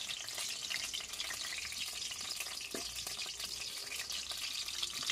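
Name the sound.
potatoes frying in hot oil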